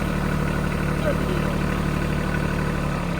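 A tractor engine idles steadily at close range, a continuous low rumble with a faint high whine, running alone without talk over it.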